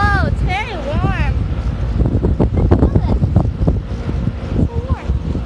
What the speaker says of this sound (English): Oh, and great wind for pictures.